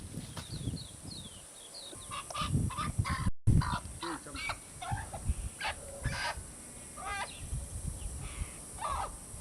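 A chicken held for a ritual offering before wood mask carving clucks and squawks in repeated bursts, with scratchy handling noise and other fowl nearby.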